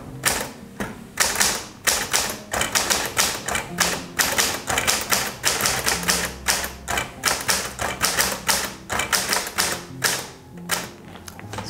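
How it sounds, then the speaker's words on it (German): A mechanical typewriter clatters close and loud as a quote is typed, with rapid, steady keystrokes and occasional heavier thumps of the carriage, continuing for the whole stretch with no speech. "ein Zitat, was ich mit der Schreibmaschine hier schreibe"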